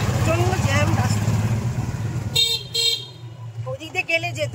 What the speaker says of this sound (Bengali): প্রচন্ড জ্যাম রাস্তা,